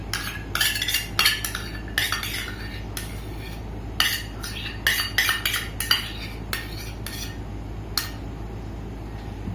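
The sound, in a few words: scooping ghee with a half-cup measuring cup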